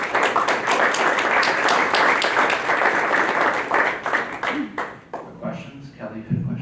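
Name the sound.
meeting audience round of applause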